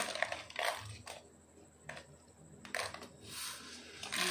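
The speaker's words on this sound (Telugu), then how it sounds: "రోడ్లో దంచుతా పచ్చడి" Chillies and salt pounded for chutney in a stone mortar by the roadside, several heavy thuds and grinding crunches at an uneven pace, close and fairly loud.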